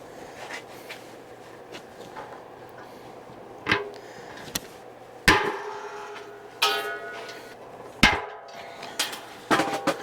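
Pop rivets being set on a homemade maple syrup vacuum filter: sharp, isolated metallic snaps and clicks with ringing tails, spaced a second or more apart over quieter handling noise, close up.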